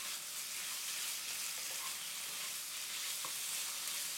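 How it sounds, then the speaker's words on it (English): Steady hiss and sizzle of beef stir-frying in a hot pan, with faint stirring scrapes and no voices. "now you wanna continue stir frying until your beef"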